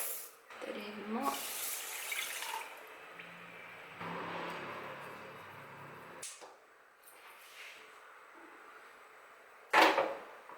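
Water runs from a tap into a pot of rice meant for a rice salad, a rushing pour that comes in bursts and gives way to quieter handling sounds, with a sharp clatter near the end.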